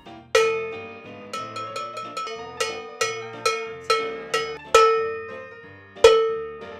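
A thin, clanky $5 cowbell is struck repeatedly in a steady rhythm, some hits louder than others, each ringing briefly before the next.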